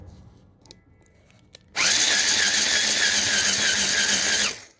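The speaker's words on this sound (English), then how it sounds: "I'm gonna drill that hole, make it bigger" A power drill bores out a small hole in a part for a Chinese 49cc mini bike engine kit: faint clicks and handling noises, then a loud, steady high whine for about three seconds that stops abruptly.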